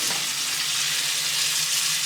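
Steak searing in a cast iron pan on a gas grill with butter and beef tallow, a steady, close, loud hiss and crackle of frying fat that fills the whole stretch without pause.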